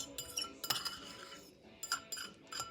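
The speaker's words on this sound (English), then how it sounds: "So then you're just going to stir until your cheese starts melting up a little bit" Metal spoon stirring milk and melting cheese inside a plastic microwave pasta cooker, giving quiet, irregular clinks and scrapes with a few sharper taps near the start and end, no talking.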